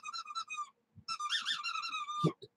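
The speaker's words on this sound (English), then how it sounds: "His mind automatically forces him to go after a squeaky sound." A squeaky dog toy squeezed in quick bursts of high, bright squeaks, a short flurry followed by a longer run, loud and close with a brief thump near the end.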